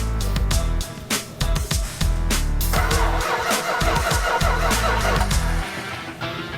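An old car engine cranks and sputters to life, running rough and loud with irregular popping bursts, no voices over it.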